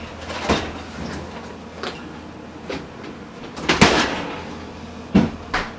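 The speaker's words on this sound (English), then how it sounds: "Open up the oven." A home oven door is opened before a pizza goes in, with several close clunks and a sliding metallic scrape, the loudest bang near the end, heard alone over a low room hum.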